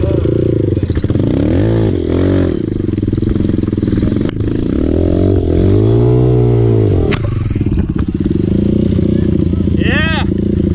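Dirt bike engine on a trail ride in Bali, running loud and close with revving rises and falls, clattering and scraping, and voices talking over it.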